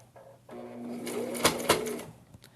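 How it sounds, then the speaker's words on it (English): A sewing machine runs a short burst of stitching down the edge of a fabric face mask, its rapid mechanical whir close and steady with a couple of clunks near the end. "And I'm going to sew down this edge."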